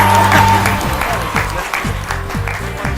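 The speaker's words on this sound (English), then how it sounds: "boy, do you deserve a loud applause" Audience applause at a school career quiz final, a dense sustained patter of clapping hands filling the hall, loud and close, with some musical tones and a little speech over it.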